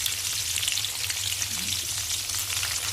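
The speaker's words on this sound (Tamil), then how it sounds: "சின்ன வெங்காயம் நம்ம கட் பண்ணி வச்சுக்கோம் இல்லையா, அது கொஞ்சம் சிம் பண்ணிக்கோங்க. லோ ஃப்ளேமில் வச்சுக்கோங்க" Chopped small onions (shallots) fry on a low flame in a pan, giving a steady, close, continuous sizzle with a soft crackle and no talking.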